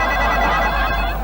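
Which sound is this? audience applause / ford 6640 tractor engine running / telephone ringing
telephone ringing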